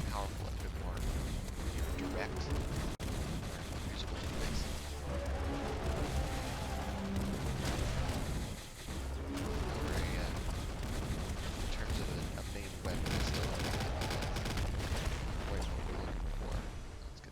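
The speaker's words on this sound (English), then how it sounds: "bouncer shotgun" Bouncer shotgun blasts in Nuclear Throne, a dense, constant barrage of loud firing and impacts layered over game music, with a short lull around the middle.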